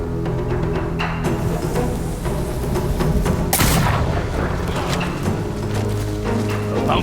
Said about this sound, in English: Thrown weapons like kunai, bombs, or even blinding powder can give Atsu an edge.